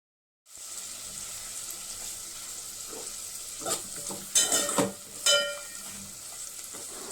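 Onions and drumsticks fry in a pan, with a steady sizzle that starts abruptly after a brief silence, then louder stirring scrapes and bursts of spattering in the second half, with no talk.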